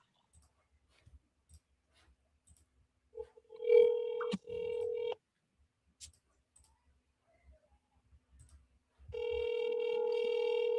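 An outgoing phone call with a few faint clicks, then a steady electronic ring tone that stops, followed by quiet clicking and a second long ring tone at the end.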